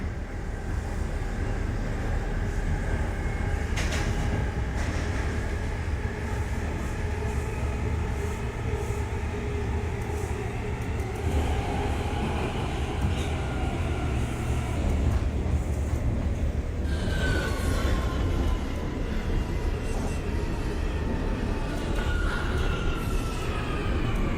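An R179 New York subway C train runs in the OpenBVE train simulator game, producing a continuous loud rumble and motor drone with shifting tonal whines that stay steady throughout, with no talk heard.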